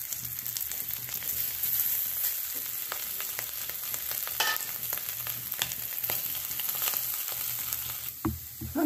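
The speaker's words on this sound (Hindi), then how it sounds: "सारी चीजों को भून लेते हैं।" Spiced potato filling for a stuffed rice-flour breakfast snack sizzles and fries steadily in a pan, a continuous close crackle with occasional stirring scrapes and a louder clatter near the end.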